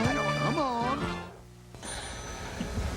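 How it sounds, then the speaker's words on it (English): A telephone rings as trilling bell tones in a 1982 Phoenix television broadcast, heard alongside talking before a short lull and more background sound. "Somebody get the phone there."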